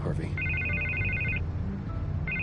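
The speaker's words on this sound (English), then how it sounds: "I can't get the phone to stop ringing." A telephone rings in a Batman game, with two bursts of electronic trilling separated by a pause and the second one cut off at the end, set against a low ambient hum and underlying speech.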